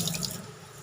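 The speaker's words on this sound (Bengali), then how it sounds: "চলো জল দিয়ে দিই।" Tap water splashes into a pan or pot during home cooking of an Indian-style dish with ginger-garlic paste, a short, close burst of running water that tapers off quickly.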